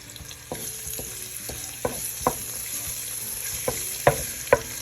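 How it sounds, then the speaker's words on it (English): Garlic fries for rice porridge in a pan with a continuous, close, even sizzle, broken by occasional soft clinks and stirring taps. "Let it fry up until it turns brown"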